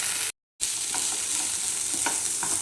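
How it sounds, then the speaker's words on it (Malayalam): Boiled raw plantain and beans are stirred in a hot pan, with a steady sizzle and a few soft spoon scrapes. The sound cuts out briefly near the start before the frying continues. "നന്നായിട്ട് ഇളക്കി യോജിപ്പിച്ചെടുക്കാം"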